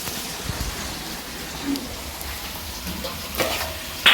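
Fried rice and meat sizzle in a pan on a home stove, a steady hiss of frying with occasional stirring clatter, close by and without talking.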